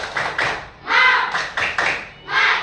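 Elementary school class doing the rhythmic 'tepuk semangat' spirit clap, with quick bursts of claps and chanting voices in a short repeating pattern at close range.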